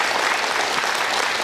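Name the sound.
audience applause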